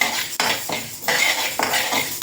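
Metal spoon scraping and clinking against a pan while moong dal lentils dry-roast to brown for Andhra-style paruppu podi, several quick stirring strokes close by with a soft background hiss.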